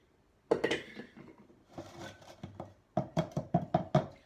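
A carrot cake pan is knocked against a counter to release air bubbles, giving a close, irregular cluster of hollow thumps followed by a quick run of about six evenly spaced taps.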